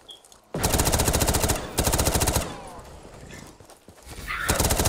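A pistol fires in rapid bursts in Call of Duty Black Ops 3 custom zombies on a desert arena map. The shots come as loud, tightly spaced volleys that break off and then resume.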